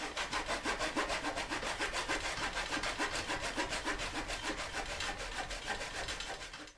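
A hand saw dating from the 1900s rasps through firewood in a fast, steady back-and-forth rhythm, close up and continuous, with no voices.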